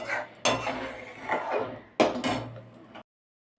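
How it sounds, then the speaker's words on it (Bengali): A spatula scrapes and clatters against a kadai while stirring mango sweet, two scraping bursts of about a second each, close and clear, then the clip falls silent. "এবার আমি খুন্তিটা ব্যবহার করব না হলে কড়াই লেগে যাবে"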